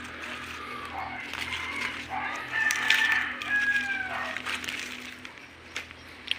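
Chickens on an organic farm, with crowing and clucking calls rising over a steady low hum; a bright crow-like cry peaks near the middle, moderately close, with some faint background voices.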